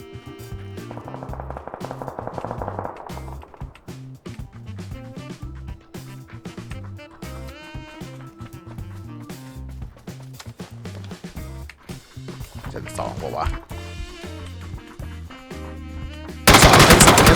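Gunfire in the video game PUBG: rapid repeated shots crackle steadily over game music and ambience for most of the stretch, with a louder, denser burst at the very end.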